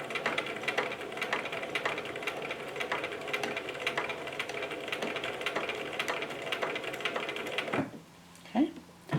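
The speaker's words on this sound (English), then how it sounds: "I'm going to put my sewing machine in reverse and stitch backwards" A home sewing machine stitches backwards in reverse, its steady mechanical whirring and needle clatter running loud and continuous for several seconds before stopping abruptly, followed by a few faint clicks.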